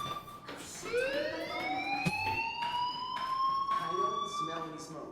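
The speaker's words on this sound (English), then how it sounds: "do you hear that fire alarm? That means you should be outside." A fire alarm in the video game Life is Strange wails with a rising siren tone that swells and holds, looping loudly while voices talk over it.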